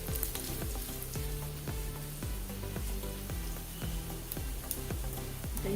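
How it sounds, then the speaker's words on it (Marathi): Crushed garlic fries in oil for Maharashtrian kulith pithla, a steady sizzle punctuated by regular, rhythmic scrapes of a spoon stirring against the pan, close up and without talk. "काही चांगली परतून घेऊया तेलात। लसूण चांगली लालसर करून घ्यायची।"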